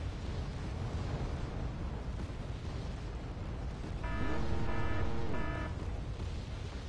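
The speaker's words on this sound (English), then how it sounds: "That's probably Burattino fire falling on me." Buratino rocket artillery fire lands in the video game Wargame Red Dragon, a low rumbling eruption of impacts that swells over steady background noise, faint and distant, with a tonal whine briefly riding above it.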